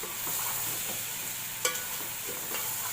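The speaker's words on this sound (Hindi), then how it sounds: "अब इसकी भुनाई करके" Chicken, capsicum and potatoes fry in a pan with a steady bright sizzle, punctuated by a few scraping stirs of a utensil, close and continuous with no talk.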